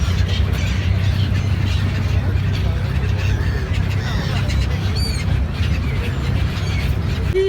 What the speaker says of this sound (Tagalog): Grabe, ibon, ang dami.